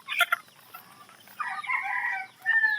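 White hatch chickens cluck close by, with short sharp calls at the start, a sustained louder squawking call in the middle, and another burst at the end, over a quiet background.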